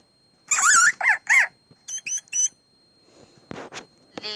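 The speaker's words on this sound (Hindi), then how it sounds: "hamster" A hamster giving a run of high, sharp squeaks in two groups of three, close and clear, followed by a couple of brief rustling noises.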